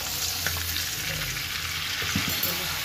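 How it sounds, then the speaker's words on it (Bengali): Mustard and chili spice paste sizzles steadily in a hot pan after a splash of water, a dense continuous crackle with occasional stirring scrapes. "মশলাটা ভোনার জন্য একটু পানি অ্যাড করছি।"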